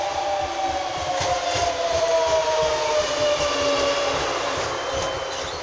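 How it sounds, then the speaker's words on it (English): A Class 365 passenger train arrives at Foxton station, rumbling steadily past with a drawn-out squealing whine from the wheels, continuous and fairly loud with no talking. "The stopping train to Cambridge from King's Cross."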